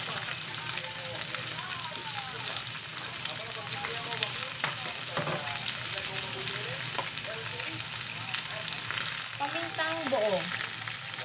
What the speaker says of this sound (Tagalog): Palalambutin lang po natin ng gusto ang adobong paa.